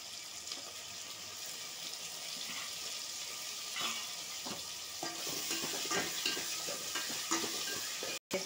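Tomatoes fry in a pan with a steady close sizzle and a wet crackle, while occasional scraping stirs come through and a sharp cut ends the sound near the close, no talking.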